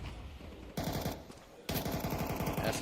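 Rapid bursts of Mac-10 submachine gun fire in a Counter-Strike match, two dense strings of fast shots with a short gap between them, loud and close.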